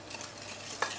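Egg whites stirred into lemon and vodka cake batter in a bowl, a soft close mixing swish with one brief knock near the end.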